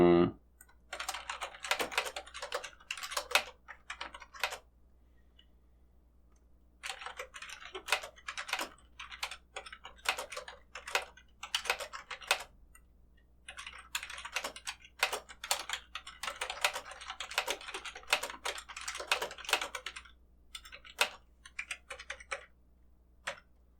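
Clicking keystrokes on a computer keyboard while writing an instruction into Copilot in Power Automate. Quick bursts of typing are broken by short pauses over about 24 seconds, close and crisp, with a faint background hum.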